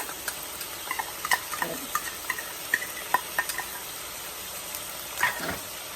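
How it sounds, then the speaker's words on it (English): Curry paste stirred into sauteed onion in a pan sizzles softly, with scattered scraping clicks from the stirring and a light, continuous fry, no voices. "So the curry paste go in. Kind of mix it well together with the onion right here, the sauteed onion."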